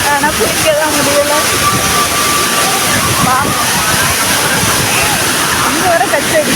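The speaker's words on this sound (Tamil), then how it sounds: "பேக்கில் ஃபால்ஸை பாருங்க" The Tiruparappu waterfall, swollen with heavy rain, pours as a loud, continuous rushing roar, while people talk over the falling water.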